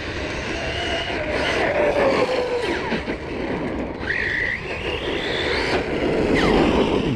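A Redcat Kaiju 6S RC monster truck driving, its electric motor whining and rising and falling in pitch as it accelerates and slows, loud and fairly close over rough rumbling tire noise.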